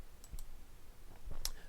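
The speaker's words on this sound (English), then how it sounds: "By clicking on the Change button," Mouse clicks on a Change button in portfolio software, a few faint, sharp ticks spaced apart over a quiet background.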